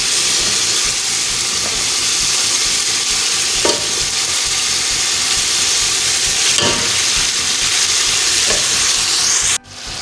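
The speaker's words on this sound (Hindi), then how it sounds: "ये देखें, गोश्त हमारा अच्छे तरीके से फ्राई हो चुका है, नीचे लगना शुरू हो गया है।" Beef and bone marrow fry in a pot for nihari, a loud, close, continuous sizzling hiss with a few faint scrapes, cutting off sharply near the end.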